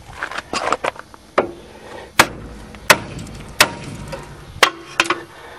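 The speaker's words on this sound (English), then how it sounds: "take your big hammer or mini sledge, whatever you want to call it, and now whack it right there really hard" A mini sledge hammer strikes a car's ball joint on a front-wheel-drive car, about six or seven sharp metallic whacks at uneven intervals, close and loud, with softer clanks and rattles early on.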